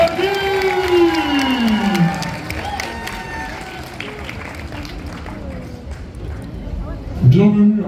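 A crowd applauds and cheers at the Kamo Play 2024 cosplay contest for a cosplayer dressed as Dovahkiin from Skyrim, with steady clapping under loud, drawn-out shouting voices.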